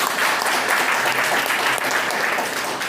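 An audience at a company event claps together in a dense, steady burst of applause, loud and sustained with no voices on top.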